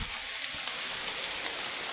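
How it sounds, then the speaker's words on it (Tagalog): Dense, steady hiss of rain falling on a surface, a fine continuous patter with no voices over it. "Ulan. Gaulan na po do, ulan."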